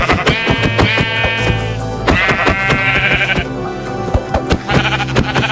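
Sheep in the Minecraft video game bleat repeatedly, loud and close, each wavering cry standing out over busy in-game sounds and clicking taps.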